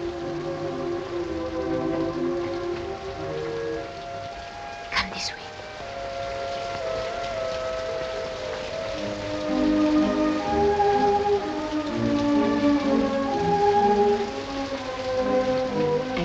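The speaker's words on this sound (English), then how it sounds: "Oh, it's raining." Steady rain patters outdoors with a brief sharp crackle, while soft music and faint voices carry on underneath.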